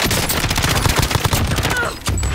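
Rapid gunfire from the video game Warzone in a rooftop firefight, loud, close bursts of shots in quick succession that keep up almost without a break.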